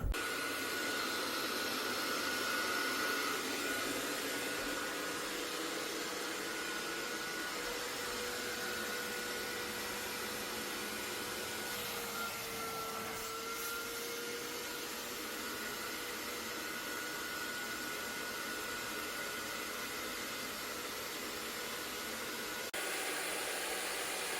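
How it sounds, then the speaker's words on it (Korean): A Bissell wet vacuum cleaner working on a sofa gives a loud, close, continuous whine and rush of suction that holds steady for the whole stretch, with slight shifts in pitch as it moves. "우주가 태어나면은 이 쇼파 청소를 자주 해줘야 될 것 같아서 요빗셀 습식 청소기를 구매를 했습니다"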